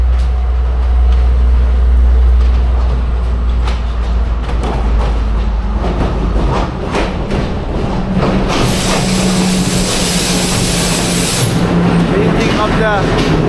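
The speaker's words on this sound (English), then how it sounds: "the train is moving" Train moving at a mountain station near Horton Plains in Sri Lanka, a loud steady rumble and rolling clatter with a hiss and a brighter metallic squeal building later, while people talk nearby.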